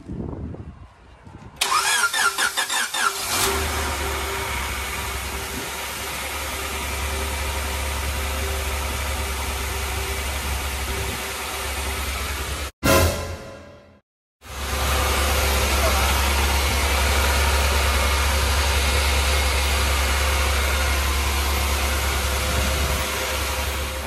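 A Honda Integra with an LS-VTEC engine swap cranks and fires for its first start, then settles into a loud, steady idle close by, briefly cutting out and restarting partway through.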